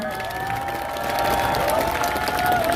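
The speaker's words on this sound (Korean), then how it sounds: "여러분 정말 환영의 박수 부탁드립니다" A crowd at a political campaign rally in Duryu Park applauds and cheers to welcome a candidate's wife onto the stage, steady clapping mixed with shouts and cries that swell louder partway through.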